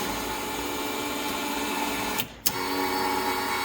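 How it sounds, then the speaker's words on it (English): A steady electric whir from the landing brake actuator on a Cozy MKIV aircraft runs continuously, briefly dropping out with a soft click and gap before resuming at the same even level. "let's try the landing brake."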